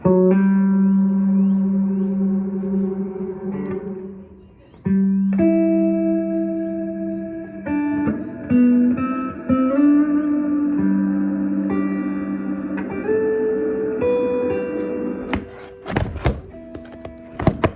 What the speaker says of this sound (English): There's an echo and a sustain knob, which is pretty cool.